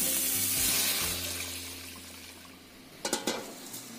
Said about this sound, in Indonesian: Kita tambahkan santan encernya.